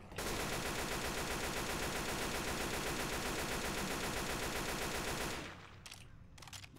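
Continuous rapid automatic gunfire from the video game Left 4 Dead 2 rattles loud and dense for about five seconds, then cuts off abruptly, leaving a few faint sounds.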